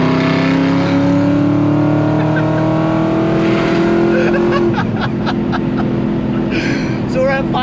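An Aston Martin V8 Vantage with a VelocityAP GT4 Supersport exhaust and 200-cell cat drones steadily while cruising, then climbs in pitch as it accelerates, loud and close from inside the car, with a voice talking over it.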